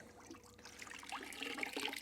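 Microfiber short-nap towel dunked into a bucket of water for cleaning car windows, giving a soft splash followed by trickling, dripping water up close, fairly quiet and with no talking.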